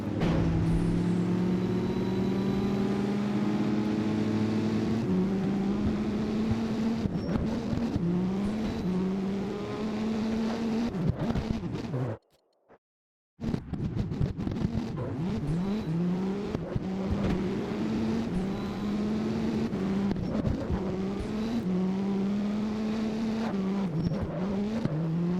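A Nissan 240SX race build in Need for Speed Underground screams through repeated high revs and gear shifts, the engine pitch climbing and dropping in waves, with a brief total silence midway before racing resumes.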